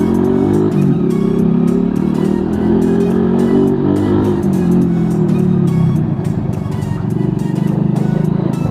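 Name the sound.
motorbike exhaust sound while accelerating and shifting gears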